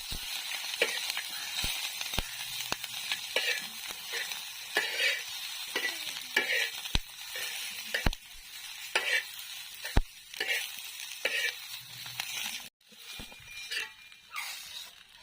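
Onions and then tomatoes stirred in oil in a pan for a village-style bitter gourd chutney, with a steady close sizzle broken by repeated sharp scrapes and clinks of the stirring spoon, no talk.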